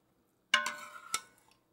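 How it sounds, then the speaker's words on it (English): Ladle scooping Cincinnati chili into a serving bowl, heard as a few close clinks and scrapes of utensil against dish, with a short wet slide of food between, then quiet. "I'm going to have to ladle in the rest of this chili"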